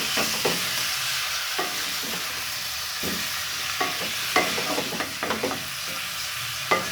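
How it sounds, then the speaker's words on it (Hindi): Chicken pieces and onions being stirred in a pan for a Mughlai chicken malai handi, with a steady sizzle and repeated scraping strokes of a spoon at close range, no talking. "चिकन को मैं प्याज़ों के साथ अच्छे तरीके से भून लेती हूँ 1 से 2 बार इसको"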